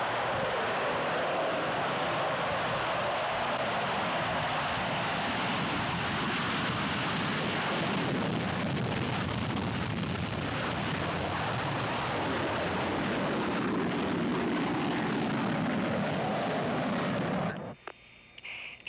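A CF-18 Hornet fighter jet roars with afterburners lit during a demonstration takeoff, a dense, sustained, powerful rumble filling the whole stretch before dropping off sharply at the end.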